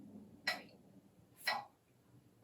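A snare drum is struck as half notes, three short, sharp, dry hits spaced about a second apart, with quiet gaps between them and nothing else heard.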